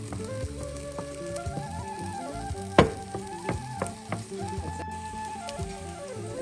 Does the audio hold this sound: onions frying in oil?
yes